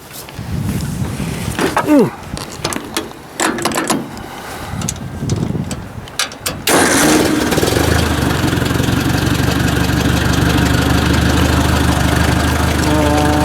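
An 800 personal tractor engine starting up for a test drive, clattering bursts and knocks, then a loud steady near idle drone that holds to the end, with a person talking near the start.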